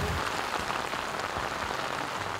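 Rain falls steadily on a tent at a campsite in Wang Nam Khiao, making a constant, even hiss with soft patters, moderately loud and without any talking.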